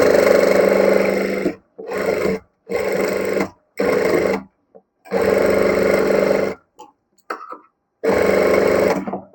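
A sewing machine stitches a deep V-neck princess-cut blouse in repeated short bursts, each a loud, close, rapid mechanical whirr lasting about a second, separated by brief silences and soft handling sounds.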